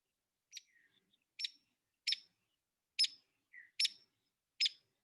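Short, sharp high-pitched woodpecker calls repeated about six times at irregular intervals, each a quick bright peep against a quiet background.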